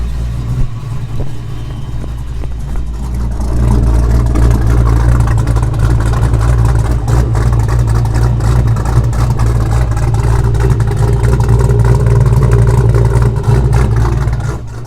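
A Ford Fox-body Mustang engine idles steadily with a deep, continuous rumble, close by, its tone rising slightly partway through and then holding level.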